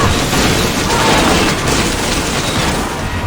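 Grenades explode during a battle in Assassin's Creed Odyssey, a loud, dense wall of booming blasts and crackling debris that stays heavy and continuous from start to finish.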